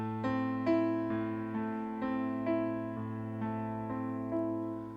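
Piano playing a minor version of a repeating pattern, a low sustained bass under steady chord strikes recurring about every half second, moderately soft and alone.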